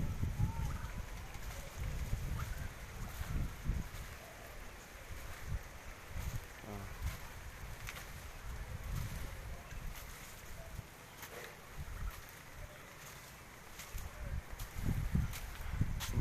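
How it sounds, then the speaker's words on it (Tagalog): Strong typhoon wind during Typhoon Ulysses buffets a rural hut area in the Philippines, low rushing gusts rising and falling with rustling debris, close to the microphone. "Malakas ng hangin, bumagsak yung tolda."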